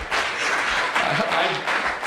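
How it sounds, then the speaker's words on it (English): Audience applause at an awards gala, a dense continuous wash of clapping from a large room filling the whole short stretch. "I appreciate the applause"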